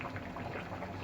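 Rohu fish curry with taro and potatoes cooking in a pot, a steady close bubbling and simmering hiss with no pauses and no voices.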